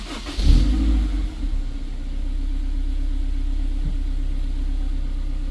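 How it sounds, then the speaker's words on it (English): A car engine cranks and catches, then settles into a steady low idle rumble that runs on evenly, close and moderately loud, with no talk. "There you go, car is running"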